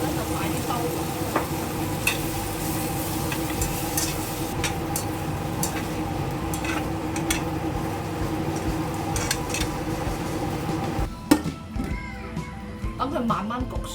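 Pork spare ribs stir-fried with yuzu jam in a pan, a steady loud sizzle with scraping stirring strokes throughout, a brief clatter near the end, with talking over it.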